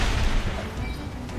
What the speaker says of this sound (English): If I can hit them with bar shot for one.